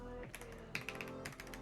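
Clicky typing on a budget mechanical keyboard after a keycap swap, a quick run of crisp keystrokes heard close up over a steady low hum.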